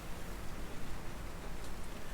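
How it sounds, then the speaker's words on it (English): Rain in a forest, a dense unbroken hiss of drops falling steadily on leaves and ground, evenly loud throughout with no voices. "The rain picking up and getting heavier and heavier and heavier to a point where it's becoming overbearing."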